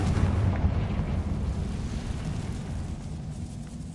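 Confringo blasting spell in Hogwarts Legacy, a sustained roaring explosive rumble that stays loud and dense throughout, slowly tapering with no talk over it.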